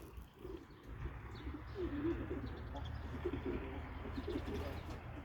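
A young racing pigeon coos softly in a quiet loft, with several low, rolling coos and a few faint chirps, close and alone with no talking.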